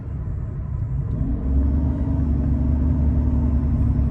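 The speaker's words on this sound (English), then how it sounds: "As I'm accelerating. When I'm giving it gas, I'm hearing some whining." A 2006 Mercedes CL600 with a failing transmission accelerates, a steady engine rumble joined partway through by a rising whine that holds loud and constant to the end.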